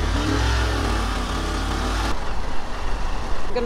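A motorbike carrying three riders starts and pulls away on a village road, with a dense, steady engine roar that shifts to a rougher, throbbing drone as it rides off.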